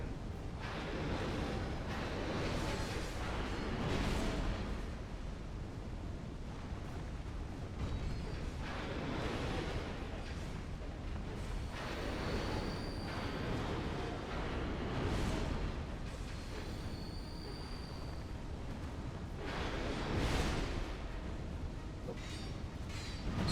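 Explosions boom in the video game Dark Souls 2, heavy rumbling blasts rolling one after another over a dense, continuous roar of battle noise.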